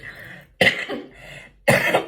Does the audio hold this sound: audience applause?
no